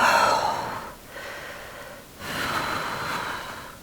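Deep breathing during a yoga wide-leg forward fold: three slow, close breaths, each a soft airy rush with a slight nasal snort, separated by brief pauses, quiet and without talk.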